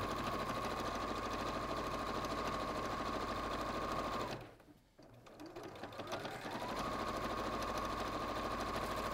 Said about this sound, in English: So I'm just top stitching along,